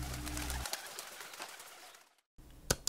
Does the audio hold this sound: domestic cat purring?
no